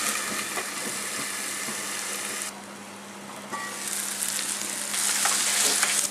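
Onion and tomato sautéing in a pan for prawn biryani give a steady, close oily sizzle that dips quieter partway through, then swells louder again toward the end.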